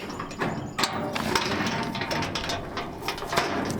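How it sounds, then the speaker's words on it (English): The front side of a yard cart is folded down, producing metallic ratcheting clatter, clanks and a few thumps close up, with no talk over it. "I can probably get the front to fold down real quick."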